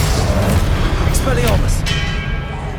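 A Confringo fire blast in Hogwarts Legacy booms amid loud, continuous combat noise during a trial duel, with several short bright impacts stacked close together and no pause in the din.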